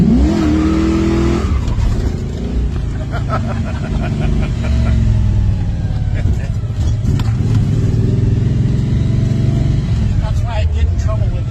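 A classic car's gear-drive engine runs steadily, a close, continuous low rumble and throaty drone with slight shifts in pitch as the revs rise and fall throughout.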